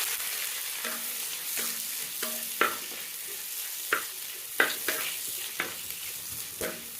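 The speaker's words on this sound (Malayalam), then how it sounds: "ചോന്നുള്ളി നല്ലോണം ഒന്ന് ചോന്ന് വഴണ്ടി ഇട്ടിട്ട് കേട്ടോ" Sliced onions with a few fenugreek seeds sauté in a hot pan for a tamarind fish curry, giving a steady close sizzle broken by sharp, regular scrapes and stirs of the spatula.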